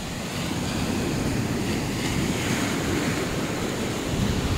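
Strong ocean waves rolling onto a beach, a continuous loud roaring wash with heavy wind buffeting the microphone, no voices heard.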